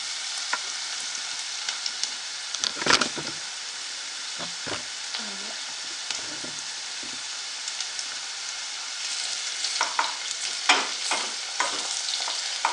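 Fat melting and sizzling in a pan for a tajine with brick pastry leaves, a soft continuous hiss with scattered pops and a few louder spatters, mid-distance and fairly quiet.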